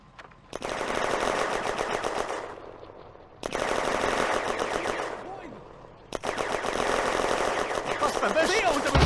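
Bursts of automatic gunfire in the WWII Eastern Front video game Firefight, three sustained loud volleys separated by short pauses, with faint voices in the background.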